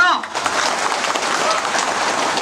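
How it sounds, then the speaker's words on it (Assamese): A crowd at a public gathering in Karbi Anglong, Assam, claps in a dense, steady wash of applause that follows a brief voice. "সকলোৱে হাত চাপৰি মাৰক"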